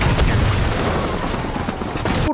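An explosion erupts overhead in the horror anthology film V/H/S: Viral, a loud, dense, sustained blast of booming rumble and crackling debris lasting about two seconds before cutting off abruptly.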